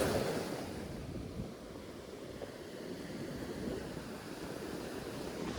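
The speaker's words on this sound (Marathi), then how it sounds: "ही बघ लाट आली बघ" Steady roar of large surf waves washing in on a Goa beach, mixed with gusty wind buffeting the microphone; no voices.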